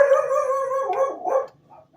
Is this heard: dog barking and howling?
yes